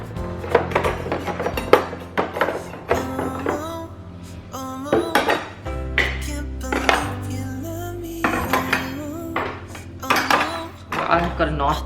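Knives and kitchen utensils clatter and clink as they are set into a kitchen organiser, with repeated close metallic knocks and rattles in irregular bursts, no talking.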